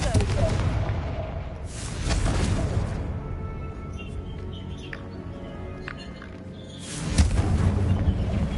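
A Confringo fire spell blast in the Hogwarts Legacy video game, heard as broad bursts of impact noise with a loud rumbling hit near the start and another near the end, over ambient game sound.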